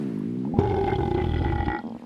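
A VRChat avatar's burp sound effect: one long, deep, rumbling belch that starts abruptly and drones on for over a second before cutting off, loud and close with no talk.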